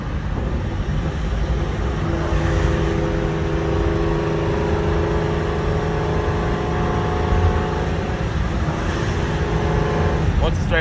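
A 1000hp Procharged Mustang eases into acceleration in fourth gear, heard from inside the car, with a loud steady engine roar and a rising whine building in two long swells.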